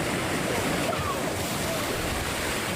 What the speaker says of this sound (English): the waves crashed over walls, flooding streets, and depositing massive trees and driftwood ashore